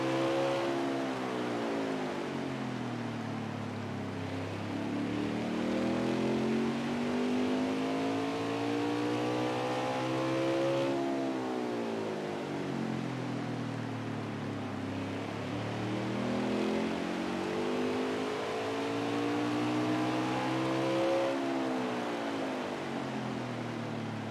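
Racing truck engines at Martinsville in the video game NASCAR Heat 5, a continuous engine roar rising and falling in pitch lap after lap as the trucks accelerate and brake, steady and moderately loud.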